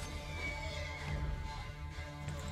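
A horse neighs loudly in the video game Assassin's Creed: Brotherhood, its whinny rising over continuous game ambience with hoof clatter, close and sustained across the short stretch.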